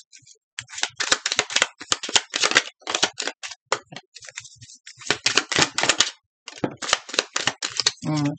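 Location cards being shuffled by hand in repeated bursts of crisp riffling and snapping, with brief pauses between runs and a short voice near the end.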